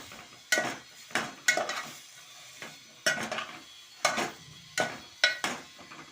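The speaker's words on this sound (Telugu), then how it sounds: "ఇలాగా బాగా తిప్పుకోవాలి, బాగా మిక్స్ చేసుకోవాలి." Mushroom curry stirred in a pot with a utensil, about nine separate scraping clinks in an uneven rhythm, close and fairly quiet over a soft background.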